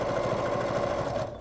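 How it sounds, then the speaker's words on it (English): A sewing machine stitches bias binding at a quarter inch with a rapid, steady mechanical whir and fast regular needle pulses, close and loud, before slowing at the end. "So I'm stitching this on at a quarter of an inch is how I usually do the bias binding."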